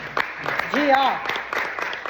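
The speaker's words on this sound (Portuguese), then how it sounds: "eu quero dar uma salva de palmas pra Diana, cara, sem brincadeira." Group applause at a church small-group meeting, a scattered patter of claps running through the whole stretch with voices and talk rising over it.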